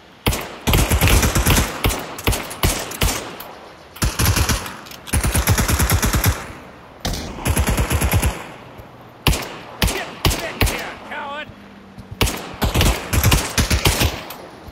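Pistol fire in Pavlov VR, a World War II D-Day battle in a virtual reality shooter: loud sharp shots in rapid clusters and volleys, some overlapping into near-continuous bursts across the whole stretch, with no talk.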